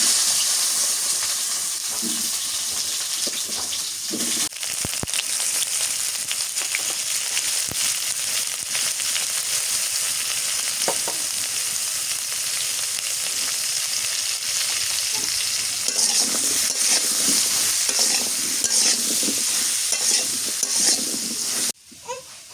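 Steady loud sizzle of frying in a hot village kitchen wok, continuous hiss with scraping stir strokes throughout, ending abruptly.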